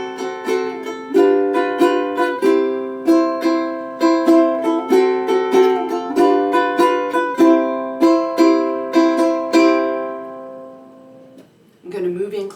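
A ukulele is strummed with a Hawaiian vamp, bright chords picked in a lively, even rhythm that rings out close. The notes fade at the end and a brief rustle follows.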